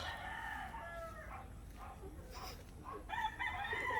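A rooster crows, its drawn-out call rising at the start and again near the end, over a constant outdoor background of other fowl.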